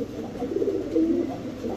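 Pigeons coo softly at a bird market, low throaty calls rolling over a steady background murmur.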